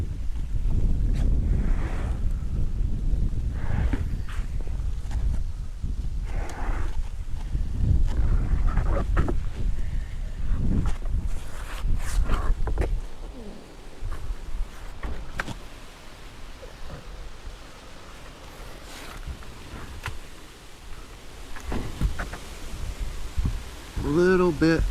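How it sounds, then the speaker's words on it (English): Gusty wind buffets the microphone in loud, uneven bursts, rumbling low and steady throughout, with a few faint knocks. "A little bit too windy."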